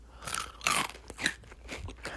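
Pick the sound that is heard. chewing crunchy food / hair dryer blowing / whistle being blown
chewing crunchy food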